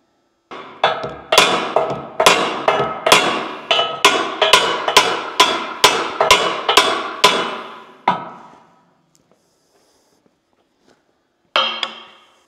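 Loud, rapid metallic hammer strikes on a John Deere excavator part, around fifteen evenly paced blows ringing out, then a pause before one more hit.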